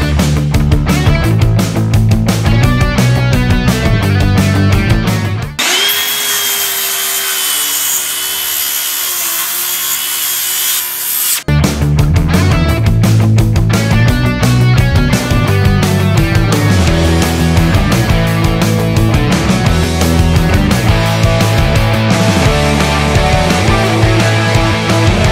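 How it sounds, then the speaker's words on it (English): Wooden wall studs being cut to length for a half wall, with a long stretch of steady rasping saw noise in the middle. Loud music plays before and after it, and no one speaks. "I want to go ahead and start cutting the studs that we're going to be using for this wall"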